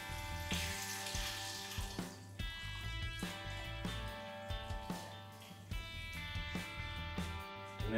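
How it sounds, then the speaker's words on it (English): A liter of hot stock is poured into a pot of roasted butternut squash for soup, a steady liquid splash and gurgle with a few clinks, close and fairly quiet, with no talking. "I have a liter of hot stock. Just pour that in."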